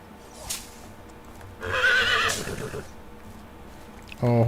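A horse in the medieval life-sim game Medieval Dynasty whinnies loudly for about a second, followed by a sharp burst of hoof or movement noise at the end, over faint background ambience.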